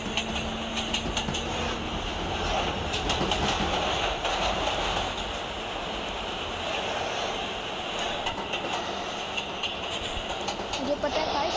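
A train in the Roblox game Jailbreak rolls along continuously, a steady broadband rumble with faint rhythmic rail clatter that holds at the same level throughout.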